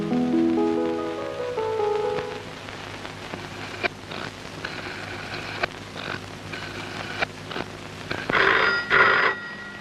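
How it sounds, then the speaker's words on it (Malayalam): A telephone rings indoors in a scene from the Malayalam film Moorkhan, a few clear, loud tonal rings at the start followed by clattering, rain-like noise. "രജനി, ചേട്ടനായിരിക്കും, ഫോൺ എടുത്തു."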